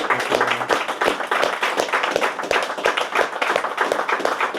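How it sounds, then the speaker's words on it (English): An audience at a live talk in a rugby club gives a round of applause, dense and close clapping from many hands that holds steady throughout. "I'd like to give you a huge thank you and a round of applause"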